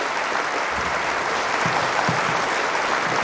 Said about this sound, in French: Encore une main d'applaudissement